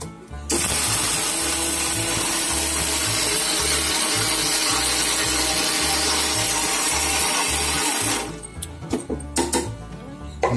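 An electric mixer grinder whirs loudly and steadily while grinding dry drumstick leaf powder, running for about eight seconds before cutting off, followed by a few faint clatters.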